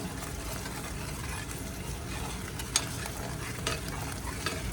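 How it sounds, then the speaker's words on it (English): Pork chops in a honey glaze bubbling in a pan give a steady close sizzle. A spoon is drawn through the glaze, adding a couple of faint scraping clicks. "when I run this spoon through it like that, we're wanting it to stay separated pretty good"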